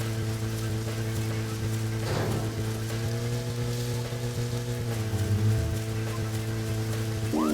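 Rain patters evenly in the video game Deadly Premonition beneath a steady low engine-like hum and faint musical tones, continuous with no pause.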